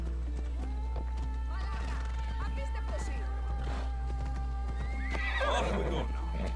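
A horse in the video game Assassin's Creed Odyssey whinnies and snorts with clip-clopping hooves, set against steady ambient game sound, and a person talks over it.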